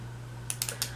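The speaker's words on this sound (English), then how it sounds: "I'm gonna put the pen down so I stop clicking it" A pen clicks four times in quick, uneven succession, sharp and close but quiet, over a steady low hum in a quiet room.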